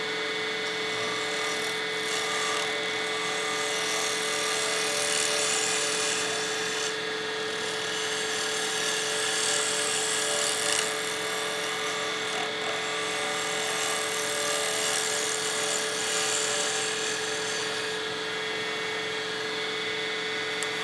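Skew chisel held as a negative-rake scraper against a spinning pen blank on a wood lathe, turning a premium pen kit down toward the bushings; a steady, continuous rasping hiss over motor hum, close and even throughout with no talking.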